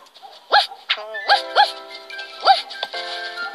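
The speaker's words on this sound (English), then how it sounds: "He barked Woofster." A dog barks several times close by in short, irregular yaps over a faint steady hum.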